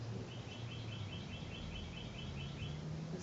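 Birds chirp outdoors in a steady, faint series of repeated calls over a constant background hiss.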